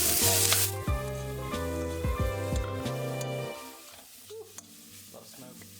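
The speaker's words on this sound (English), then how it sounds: "I'm gonna add some of this onion and capsicum mixture" An onion and capsicum mixture hits hot oil in a pan for palak paneer, a loud, close sizzle with clinks of a utensil stirring, easing into a quieter fry.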